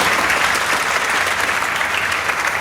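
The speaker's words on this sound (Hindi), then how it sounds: "जोरदार तालियां बजाओ।" An indoor audience claps loudly and steadily throughout, a dense, sustained round of applause from many hands with no speech over it.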